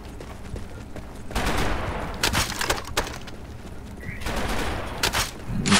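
Gunfire in a shooter video game crackles in rapid bursts and single shots, moderately loud with short pauses between volleys, alongside faint game effects.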